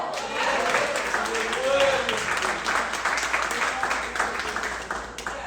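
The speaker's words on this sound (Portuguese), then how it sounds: "aplaude ao Senhor" A church congregation at a Sunday worship service applauds for the Lord, a sustained crowd of clapping hands with voices calling out over it, fading slightly toward the end.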